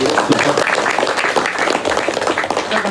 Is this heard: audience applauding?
yes